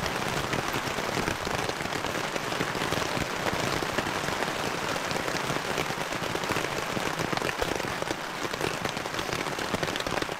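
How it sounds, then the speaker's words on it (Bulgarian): Steady, dense rain patters and drips on surfaces all around, a constant crackling wash with no pauses. "Дъжда, както може да чуете, малко е поспрял. Още капе обаче."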